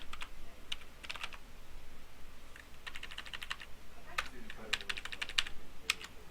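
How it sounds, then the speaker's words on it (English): Typing on a computer keyboard while setting up a Microsoft Word 2010 document, close crisp clusters of keystrokes coming in quick bursts with short pauses between them, moderately loud and without talk. "After that, you can start typing."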